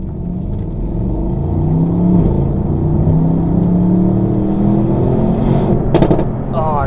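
A Mercedes-AMG GT 63 Coupe's big engine revs and runs continuously and loudly at close range, its deep roar swelling and easing with rising tones for about seven seconds, with brief sharp bursts near the end.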